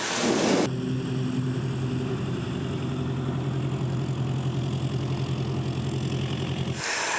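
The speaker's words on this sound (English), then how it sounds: "I'll take over the controls now and taxi it into the run-up area" Small training airplane engine running steadily while the aircraft taxis toward the run-up area, a loud, even droning hum with a constant low tone, lasting throughout after a brief louder start.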